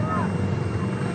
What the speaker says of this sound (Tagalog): Sakay na ng helicopter.